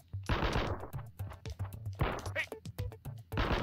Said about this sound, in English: And let's shoot this guy.